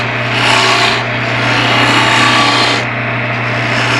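A wood turning tool cuts a spinning guitar neck blank on a lathe, a loud, continuous rasping scrape over the machine's steady hum, swelling and easing as the tool is pushed into the wood.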